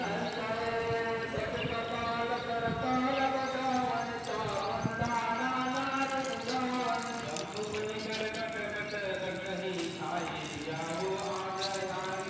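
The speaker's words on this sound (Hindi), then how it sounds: "ऊपर अभी ये नल चल रहा है" A water tap runs steadily on a rooftop, a constant hiss of flowing water beneath a voice talking over it the whole time.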